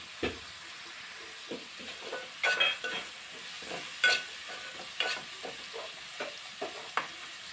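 Brinjal and potato sizzle and hiss in hot oil with salt at a soft, steady level, with repeated spatula scrapes as they are stirred; no one speaks.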